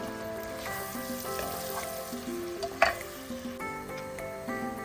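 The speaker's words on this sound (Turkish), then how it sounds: "Zeytinyağı ve soğanları bu şekilde önce kavuruyorum." Onions sautéing in olive oil give a steady, low sizzle that sits beneath prominent background music, with a brief clatter near the middle.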